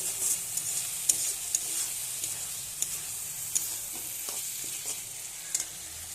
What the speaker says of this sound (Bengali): এবার আমি মুগ ডাল দিয়ে দেবো